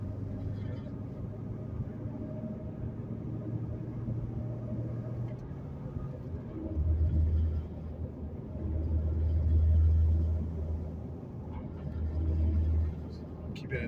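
A 2008 Ford Mustang Bullitt cruises along a road at a steady 40 mph, a low continuous engine rumble inside the cabin that swells in a few broad surges, with no talk.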